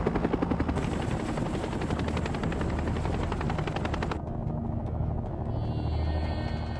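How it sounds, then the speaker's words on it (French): Military helicopters from the Vietnam War era, descending toward a landing zone, their rotor blades thudding in a loud rapid beat with engine roar, the sound thinning abruptly partway through. "les hélicoptères diminuent leur altitude et volent en azimuth."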